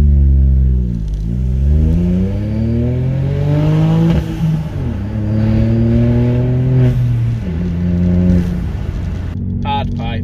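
A Ford Fiesta Mk8 engine fitted with a turbo hard pipe revs hard several times, each climb in pitch close and loud before dropping back, ending with a short burst of clatter.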